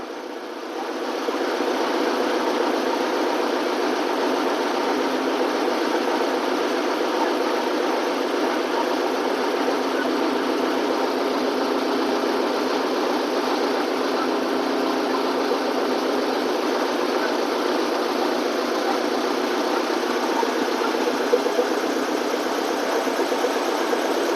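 A Lovol 354 tractor engine idles steadily after repair at around 900 rpm, a continuous even diesel drone held close throughout with no speech.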